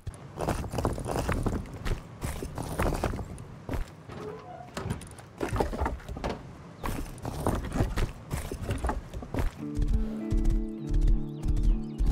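Horse hooves clip-clopping in a steady walking rhythm while riding in the video game Rust, close and continuous, with a mechanical tonal hum joining toward the end and no talk.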